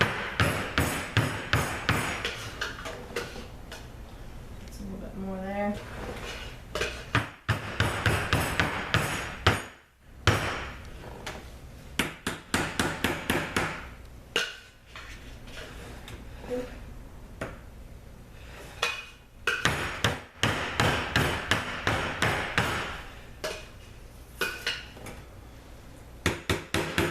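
Soap molds for cucumber, carrot and salt soap banged against a surface, with repeated sharp knocks in quick bursts and pauses between them, close and fairly loud.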